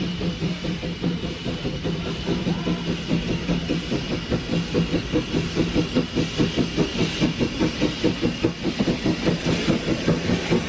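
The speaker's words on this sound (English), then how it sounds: "This is the Sir Berkeley by Manning Wardle. He built the locomotive in 1890." Manning Wardle steam locomotive Sir Berkeley, built in 1890, running steadily with a continuous rhythmic chuffing and clanking of the rail, close and fairly loud throughout, with a constant hiss of steam underneath.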